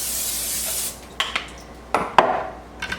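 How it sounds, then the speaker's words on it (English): Cooking spray hisses steadily from a can onto a panini press for about a second, then stops, leaving quiet kitchen handling with a few light clicks and taps. "I'm just gonna spray my panini press with whatever spray you prefer."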